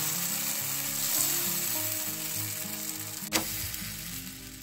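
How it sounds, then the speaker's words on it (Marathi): Dosa batter sizzling as it is spread across a hot tawa, a steady close hiss running throughout with a single sharp click near the end. "तवा इथे छान असा गरम झालेला आहे। यावर आपल्याला जे आपण बॅटर तयार केलंय ते टाकायचंय"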